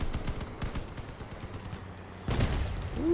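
Cannon fire in the vehicle combat game Crossout, a dense run of loud booming shots and impacts, with a heavier blast near the end and no talk over it.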